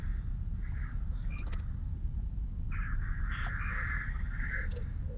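Seagulls call in the fantasy MMO Final Fantasy XIV: A Realm Reborn, with a few short squawking cries set against a steady low ambient rumble, plus faint clicks.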